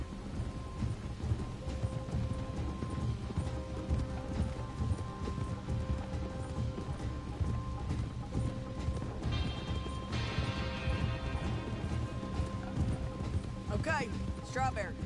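Horses' hooves clip-clopping steadily in Red Dead Redemption as riders approach Strawberry, a continuous rhythmic trot under background music, with a whinny near the end.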